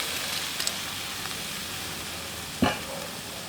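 Red wine splashes into a beef stew cooking over an outdoor fire, a steady sizzling hiss throughout with a few light clinks and one sharper knock near the end.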